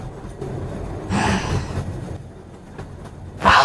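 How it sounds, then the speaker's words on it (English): A train passing by, a low rumbling roll of rail cars with swells of louder clatter and a sharper burst at the end, heard at moderate distance without talk. "How long is this fucking train?"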